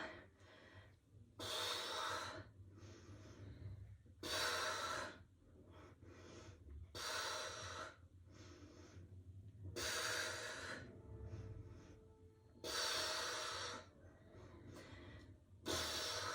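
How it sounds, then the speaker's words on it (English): Heavy, labored breaths in and out repeat in a steady rhythm, loud and close, with quiet pauses between each forceful exhale. "You can hear me breathing."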